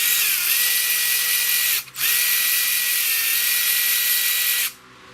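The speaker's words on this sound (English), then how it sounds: "Use the power tool here." A power tool such as a drill or impact driver working on the belt tensioner of a Chevy Cruze, a loud high whine running steadily, cutting out briefly once, then resuming before stopping.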